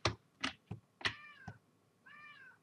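Cat meow sound effects play in a Scratch program, with two short tonal meows heard among a few sharp clicks and taps, clear and close with no talk.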